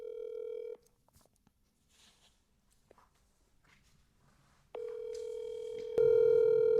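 A phone call being placed: a steady dial tone, a quiet stretch of small handling noises, then a ringback tone that swells louder near the end, close and clear.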